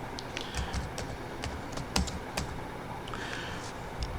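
Someone types on a computer keyboard, a quick and uneven run of soft key clicks with a few sharper taps, heard close up in a quiet room.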